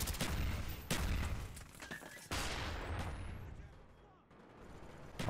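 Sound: gunfire from a Famas rifle in the video game Black Ops 1

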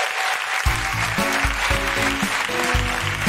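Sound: audience applause at live podcast recording

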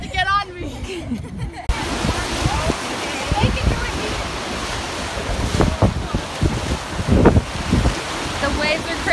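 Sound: rough ocean waves and wind

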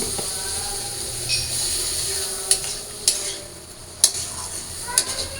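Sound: water added to turmeric and chili masala sizzling in pan

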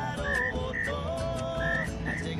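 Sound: frog croak imitated by a man tapping his stomach

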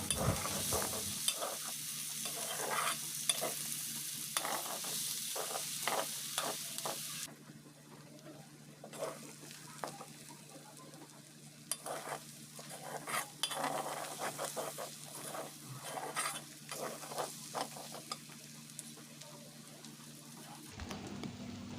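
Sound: chopped onions frying with beef tripe in oil

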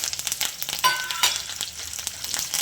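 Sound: frying curry leaves and garlic in pan

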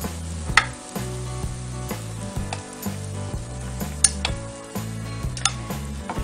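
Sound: Léa Nature organic waffle heating in a pan

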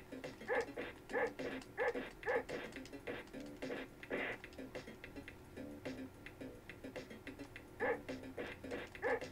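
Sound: panther dogs barking in the video game Bebe's Kids

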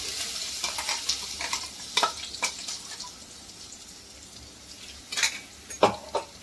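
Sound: crushed ginger, garlic and chili sizzling in the pan

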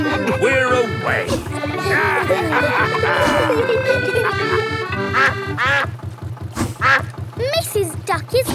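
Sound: cartoon duck quacking

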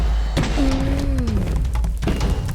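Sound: bed exploding near the dragon in Minecraft, video game

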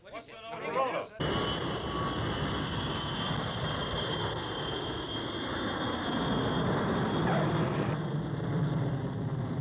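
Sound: jet aircraft flying

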